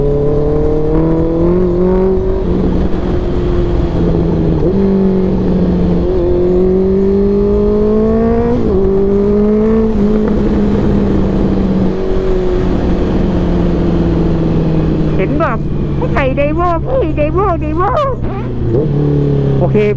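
A loud aftermarket Daivo exhaust on a Honda CBR650R motorcycle drones and revs repeatedly, pitch rising and dropping in several pulls, with a sharper burst of revs near the end.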